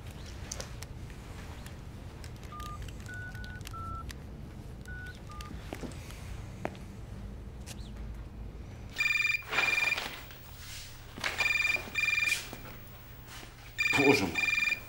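A telephone is dialed with a short series of beeping tones, then rings in several loud, evenly spaced bursts close by, over low background murmur.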